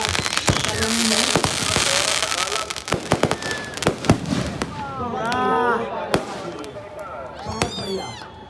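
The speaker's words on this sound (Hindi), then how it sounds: "जबरदस्त तरीके से आतिशबाजी का प्रदर्शन" Fireworks display at a village fair (mela), with a rapid barrage of loud sharp bangs and crackles, then whistling rockets rising and bursting, voices present in the background.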